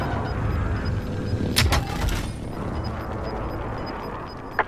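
Gunfire and artillery in a video game crack out in a couple of sharp bursts over a continuous noisy battlefield wash, with a faint repeating electronic beep and a final brief shot near the end.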